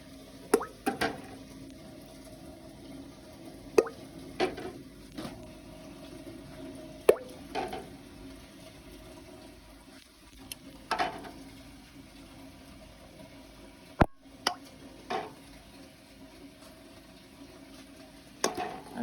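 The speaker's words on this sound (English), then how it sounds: "I got hot water in the canner. My jars and the product are hot. And we're just gonna put them all in here." Glass canning jars filled with hot greens are set one by one into hot water in a canner, giving scattered soft clinks, plops and drips at low level against a quiet background.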